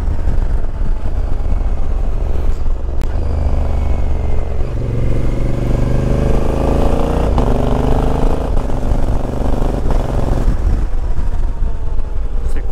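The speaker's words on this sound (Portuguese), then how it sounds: "Essa moto com quick shift ficou da hora demais." A Honda Africa Twin 1100 Adventure Sports motorcycle fitted with a quick-shifter rides along, its loud, steady engine drone climbing and dropping in pitch through quick gear changes.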